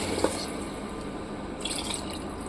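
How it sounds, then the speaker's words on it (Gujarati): Water is poured steadily onto cracked wheat and dal in a cooking pot, a close, continuous liquid rush with a small splash near the start and no talk over it. "હવે આપણે આના ત્રણ વાટકી પાણી નાખીશું"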